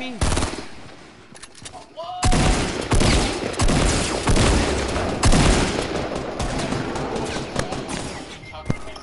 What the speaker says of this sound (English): Okay, they're shooting me!